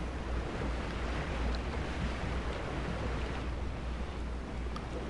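Flowing water in the video game Genshin Impact makes a constant, broad rushing wash, like surf or a steady current, sustained evenly with no voices over it.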